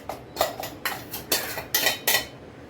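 A spoon scraping powdered biscuits from a mixer jar into a cooking pot: six or seven crisp metallic taps and scrapes in an irregular rhythm, close and moderately loud, with no talking.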